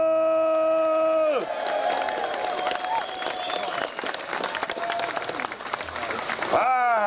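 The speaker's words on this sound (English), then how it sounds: "what a wonderful round of applause." A festival crowd at the Clun Green Man Festival in Shropshire breaks into sustained applause with whoops and cheers, after a voice over a PA system, which returns at the very end.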